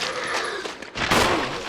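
Gunshots at zombies in Resident Evil, a dense burst of loud shots cracking close together, then a heavier blast near the end, no talking.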